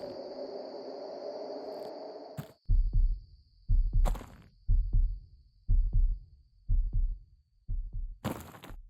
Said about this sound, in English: I do hear a heartbeat here.